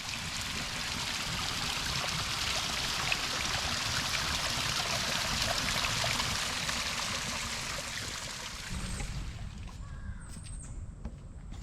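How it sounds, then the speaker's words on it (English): Steady rushing water from a waterfall in a garden fills the scene at close range, a continuous broadband roar that thins out near the end, with a few bird calls faintly behind. "We've got a waterfall"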